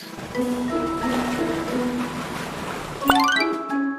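Ship on rolling ocean waves: a steady wash of surf runs throughout under bright, bell-like tones, and a louder horn-like blast sounds near the end.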